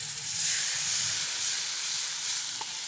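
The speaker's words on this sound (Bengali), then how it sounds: "এবার আমি দিয়ে দেবো পরিমাণ মতো জল।" Water poured into a hot pan of melted tomatoes sets off a loud, steady steam hiss that fills the whole moment, with no voices.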